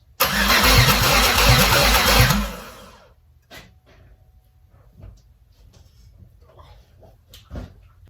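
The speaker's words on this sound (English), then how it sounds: "It cranked over like it was nothing." A Chevrolet Malibu engine cranks and catches in a loud burst of about two seconds close by, then cuts to near quiet with faint knocks and shuffling afterward.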